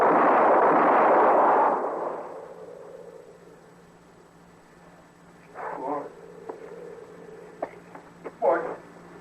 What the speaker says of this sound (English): Mort, she went and shot me, Mort.